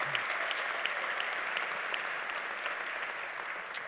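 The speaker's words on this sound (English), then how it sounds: "give yourselves a round of applause" Graduates of the class of 2021 applaud at a university commencement ceremony, a steady wash of many hands clapping at moderate distance, even and sustained without voices.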